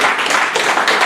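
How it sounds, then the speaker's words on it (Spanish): A church congregation bursts into dense, continuous applause, many hands clapping loudly and close together in a short, sustained wash of sound. "dale un fuerte aplauso a Dios"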